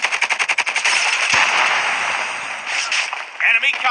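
Rapid automatic gunfire from the Call of Duty video game rattles in a fast burst, then fades into dense game noise before a few more shots crackle at the end.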